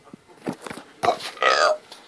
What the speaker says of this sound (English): I'm burping now, I'll go away.